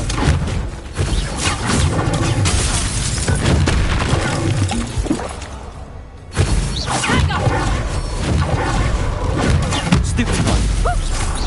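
Confringo explosive spells go off in Hogwarts Legacy, a dense, loud wash of crashing, shattering blasts that runs almost continuously, with a short dip near the middle before another burst and more crashing.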